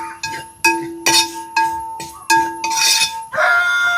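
A metal spoon clinks against a pan as chili and other masala powders are stirred for a beef fry. About eight sharp, ringing clinks come close and loud in an uneven rhythm, and no one speaks.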